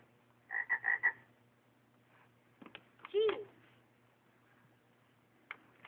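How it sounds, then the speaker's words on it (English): Electronic frog croaks from a toy, a quick burst of four ribbits, then a single longer croak after a pause, set against quiet background hum. "F is for frog."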